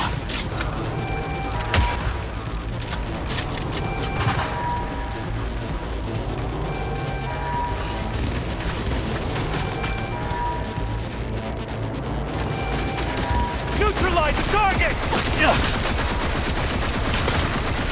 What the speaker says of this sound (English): Open fire! Who's shooting at me?